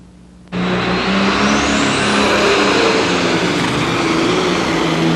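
Wayne Roush's little red truck from Dublin, Ohio, roars to life at the 1995 tractor pull in Louisville, Kentucky, its engine bursting in suddenly after a quiet moment, then howling loud and sustained with rising revs.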